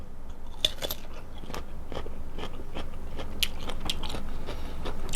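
Crisp bites and steady chewing of fresh mangosteen from Nakhon Si Thammarat, eaten with salt, with repeated sharp crunches close to the mouth throughout and no talking.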